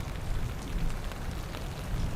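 Rain falling steadily on muddy ground outside, a soft continuous patter and hiss at low level with no voices over it.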